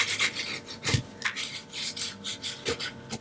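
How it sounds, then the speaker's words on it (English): A bone folder burnishes tape onto the back of a resin coaster in close, repeated rasping rubs, brisk back-and-forth strokes with no talk. "I'm going to take my bone folder and burnish it"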